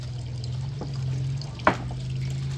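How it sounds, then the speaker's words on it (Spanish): Water is poured into containers to store for the next day's work, a soft steady trickle over a low hum with a sharp splash or clunk near the end, no talking. "aquí, llenando el agua para mañana"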